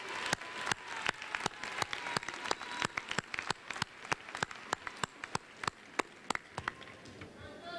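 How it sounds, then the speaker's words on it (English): Sparse, scattered applause in a large room at a high school graduation ceremony, distinct individual claps at a slow irregular rhythm, fairly faint, with no talking. "let's give a nice round of applause to all of our teachers and parents and all the staff."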